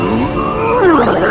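A lion's roar in a children's fairy-tale story of Puss in Boots, a loud, close growling roar that swells and rises in pitch near the end, with no talk over it.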